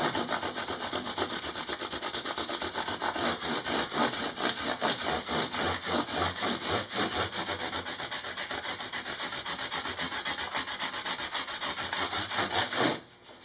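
Guitar frets are sanded with 600 grit sandpaper during a refret, a close, continuous rhythmic rubbing with quick back-and-forth strokes that stop abruptly at the end, with no talking.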